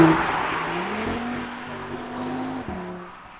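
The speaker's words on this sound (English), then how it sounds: "So these oval tailpipes make some serious sound, and this is an option from Audi. This is classed as the RS exhaust" An Audi TT RS with the optional RS sport exhaust and oval tailpipes gives a close, continuous engine note that holds steady, shifts in pitch once, then fades slightly at the end.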